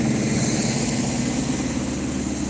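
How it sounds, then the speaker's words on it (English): A big 60 horsepower diesel engine in a pressure washer van rumbles steadily at a constant idle, with a low throbbing drone and broad hiss, close and uninterrupted with no talking. "with a big 60 horsepower diesel engine"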